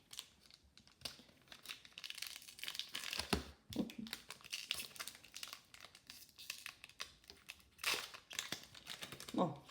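Hands tear and crinkle open the foil wrapper of a hockey trading card pack, sharp ripping bursts and rustling crackles close up, with faint speech at times.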